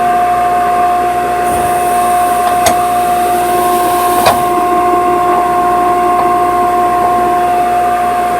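An air compressor hums steadily while pressurizing, with a continuous mechanical drone and a couple of faint clicks or knocks along the way.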